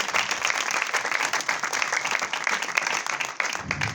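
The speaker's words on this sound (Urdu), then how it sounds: "ایک بار پھر زوردار تالیاں بجائیں زندہ خدا کے لیے" A church congregation at a Good Friday meeting claps loudly, a thick, continuous roar of applause sustained throughout without talk.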